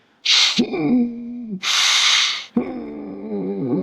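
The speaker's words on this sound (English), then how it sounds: "But try to breathe in a stressed way." Stressed breathing demonstration: sharp, hissing inhales alternate with voiced, groaning exhales, three forceful close breaths in quick succession.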